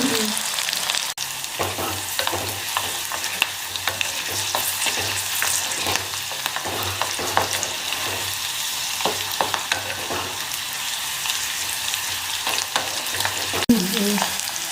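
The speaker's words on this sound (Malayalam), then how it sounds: "വെളുത്തുള്ളിയും ഇഞ്ചിയും വഴറ്റാനായിട്ട് നല്ലെണ്ണ ഒഴിച്ചേച്ച് കലത്തിലേക്ക് ചേർത്തു." Garlic, ginger and green chili sauté in sesame oil in a pot, giving a steady, close crackling sizzle with faint spoon stirs throughout and no voices.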